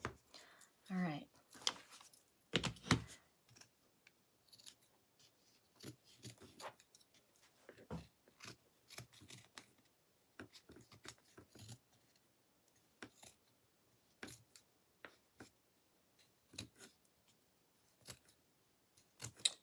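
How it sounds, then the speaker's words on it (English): Scissors trimming excess fabric off the back of a rustic tree made from wooden shims, heard as scattered quiet snips and rustles spread over the stretch, with a voice talking faintly in between. "I'm just trimming the excess off the back of the tree so you can't see it from the front"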